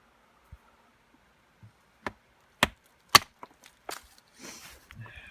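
Small bits of wood for a campfire at a cold-weather riverbank camp are chopped in a few sharp, sparse cracks and splintering knocks, spaced irregularly over a quiet background.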